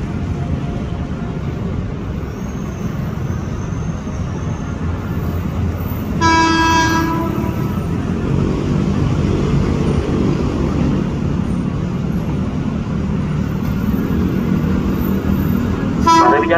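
A KRL Commuter Line electric train, a JR 205 or Tokyo Metro 600 set, rumbles through Mangga Besar station in Jakarta under a steady roar, sounding a brief sharp horn toot midway and another faint one at the end.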